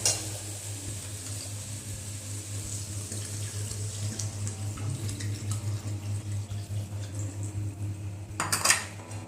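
Water goes into a pot of spiced khichuri mix with metallic clanks of pot and utensils, a running watery splash and a sharp burst of clatter near the end.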